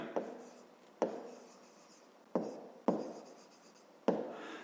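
Pen or pencil writing out a maths problem for a fifth-grade exercise, with five sharp strokes landing at a steady pace, each followed by a short scratchy drag across paper, close and fairly quiet.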